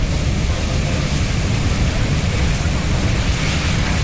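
Cyclone Amphan lashes West Bengal with heavy rain and storm noise, a loud, unbroken roar of downpour and wind with deep rumbling underneath, steady from start to finish.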